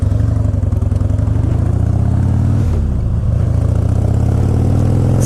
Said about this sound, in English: This bike runs good.